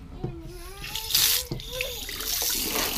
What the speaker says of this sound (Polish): bardzo lubię zmywać naczynia na kempingu